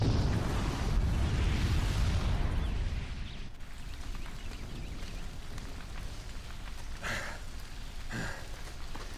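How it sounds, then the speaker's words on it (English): A bomb booby trap goes off in Horizon Zero Dawn: a loud, dense roar of blast and debris fills the first few seconds, then settles into a quieter rumbling, crackling wash with a couple of brief sharp bursts near the end. "the booby trap on the bomb downstairs is gonna get set off"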